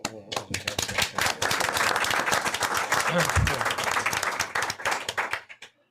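Applause from the attendees of a fire authority commission meeting, many hands clapping loudly for several seconds and then tapering off, with some people talking underneath.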